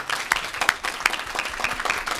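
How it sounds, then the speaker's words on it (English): Applause from an audience at a global languages leadership meeting, steady many-handed clapping with sharp individual claps standing out, moderately loud in a large room. "Please give them a round of applause."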